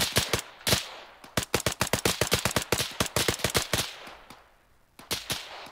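Rapid gunfire as a team engages targets, sharp repeated shots in quick bursts, loud and close, thinning into a pause before a few final rounds.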